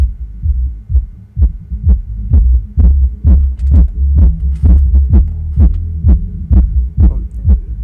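Bass from a repaired Soundigital SD2000.1 EVO car amplifier: steady, loud low thumps at roughly two per second over a faint hum, with no talking.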